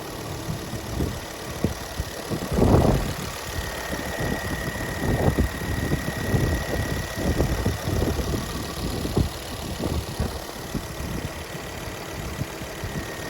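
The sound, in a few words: Ford Focus ST 225 engine idling, bonnet open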